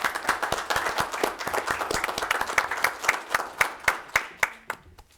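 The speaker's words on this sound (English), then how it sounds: "If we could give them a round of applause, I'd appreciate it." Applause from a small audience at a Board of Education meeting, clearly separate claps in a room that start dense and steady, then slow into sparse, distinct hand claps before fading out.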